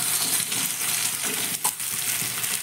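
Semolina tiffin pieces fry with spices and turmeric in a pan on a gas flame, giving a loud, continuous close sizzle with brief scraping stir sounds throughout.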